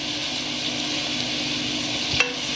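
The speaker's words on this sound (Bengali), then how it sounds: "পেঁয়াজ আমি ব্রাউন কালার করে ভেজে নেওয়ার পর আমি এখানে দিয়ে দিচ্ছি 1 চামচ রসুন পেস্ট। দিচ্ছি 1 চামচ মরিচের গুঁড়ো।" Garlic paste and chili powder being stirred into browned fried onions in a pan, with a steady, even sizzle throughout and one brief clink near the end.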